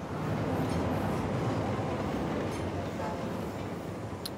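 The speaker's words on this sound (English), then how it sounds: "as the train goes over" A train rumbles overhead on the Overpass map in Counter-Strike, a steady, dense roar holding for several seconds with faint game clicks and voices.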